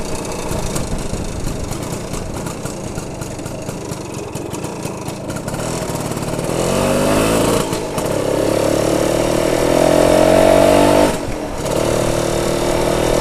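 A BSA Bantam 175 motorcycle engine runs steadily while being ridden on a blustery day, a continuous drone that swells louder midway with wind buffeting, briefly dipping near the end.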